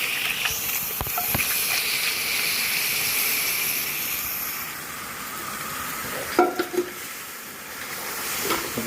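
Boiled pork seasoned with turmeric and salt hisses and sizzles in a hot pan, a steady steamy hiss with a few brief clanks and stirring knocks partway through.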